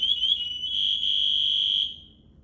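A firefighter's PASS device alarm sounds as one loud, steady, piercing electronic tone held for about two seconds, then cuts off, heard close and alone.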